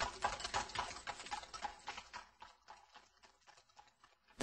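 Horse hooves clip-clop in an irregular series on a rural road in Kyrgyzstan, fairly close at first and then fading into quiet.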